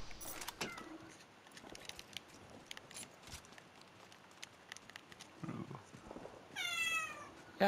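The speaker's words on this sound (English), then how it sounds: "you can lay down and just stop meowing now" A pet cat lets out a single drawn-out meow near the end, standing out over a quiet indoor background with faint scattered clicks.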